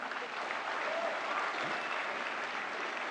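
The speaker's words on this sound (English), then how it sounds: "Iconic role, certainly deserves another round of applause." Sustained, dense applause from an audience at a National Award ceremony, steady and loud throughout with no break or individual voices standing out.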